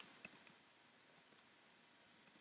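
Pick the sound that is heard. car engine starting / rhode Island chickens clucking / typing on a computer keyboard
typing on a computer keyboard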